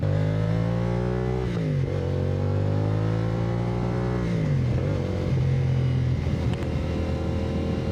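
A CFMOTO 450SS motorcycle engine drones loudly on a road in traffic, holding a steady mid-pitched hum with a couple of gear-change dips and revs, accompanied by constant wind rush.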